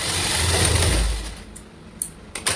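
A sewing machine runs a double line of stitching back and forth on a lined red blouse, a close, steady mechanical whir that slows and stops, followed by a couple of short clicks, with no talking.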